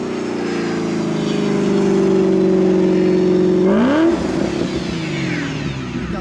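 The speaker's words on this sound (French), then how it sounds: "C'est le meilleur burn que t'as fait de toute ta vie." A Shelby GT500 fitted with big camshafts does a burnout: a loud, steady engine roar with harmonic whine holds for several seconds, then the pitch sweeps upward sharply and breaks into rougher, noisier rumble.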